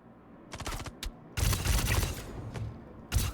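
A gun in a space video game fires rapid bursts of sharp, loud shots: a short rattling burst, a single crack, then a longer sustained volley and a final loud shot, close and unaccompanied by talk.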